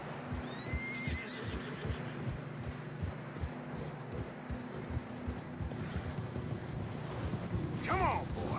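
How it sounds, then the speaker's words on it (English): Horses plod through fresh mountain snow in Red Dead Redemption 2, with a steady rhythm of muffled hoofsteps and a loud whinny near the end, while a low voice talks faintly beneath. "Horses are getting tired."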